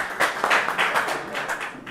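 A small gathering at a Jewish rabbinic ordination ceremony claps for the next speaker; scattered, uneven hand claps from a modest group, fairly near, thinning toward the end with no talk.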